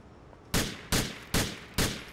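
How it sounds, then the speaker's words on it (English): Four sharp gunshots from a weapon in GTA IV ring out at an even pace, each loud crack tailing off briefly, with no talking in between. "let's shoot you in the butt for good luck"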